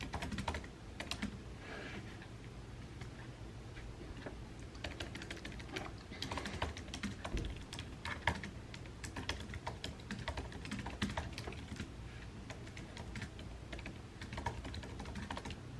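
Steady typing on a computer keyboard, a continuous close clatter of keystrokes with no voices.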